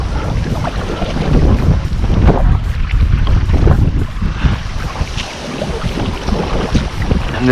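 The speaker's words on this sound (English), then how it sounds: "it usually don't take a whole lot to paddle it until you get in that freaking wind" Steady roaring wind buffets the microphone throughout while a kayak is paddled on open water during a windy day on a trapline, loud and continuous with slight swells in intensity.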